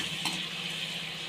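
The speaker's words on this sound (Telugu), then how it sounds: "ఒక 2 బిర్యానీ ఆకులు వేస్తున్నాను, ఫ్లేవర్ బాగుంటుంది." Two bay leaves dropped into hot oil for a cashew curry, a brief soft steady sizzle with one faint clink near the start.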